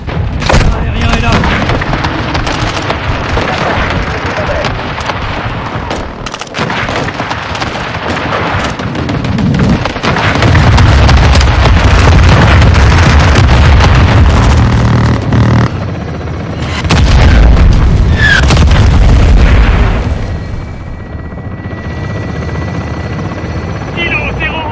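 Call of Duty MW2 campaign air strike: loud booming blasts and rumbling explosions layered over a steady helicopter drone, swelling in heavy waves through the passage, with radio chatter in French mixed in.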